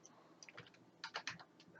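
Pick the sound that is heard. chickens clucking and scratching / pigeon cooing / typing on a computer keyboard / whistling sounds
typing on a computer keyboard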